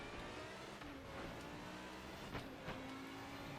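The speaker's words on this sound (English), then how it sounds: "you can hear this whine while accelerating" Twin-turbo Lamborghini engine in a racing video game, a steady loud engine drone with a high whine building under acceleration, brief sharp pops near the end, no talk.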